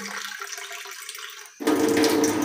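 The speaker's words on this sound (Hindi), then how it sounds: "दूध के अंदर हम लोगों ने पानी डाल लिया" Water poured into milk in a pan while making a single cup of tea: a thin trickle first, then a sudden fuller splashing pour that continues to the end, close and fairly loud.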